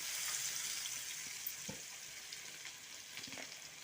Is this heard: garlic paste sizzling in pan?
yes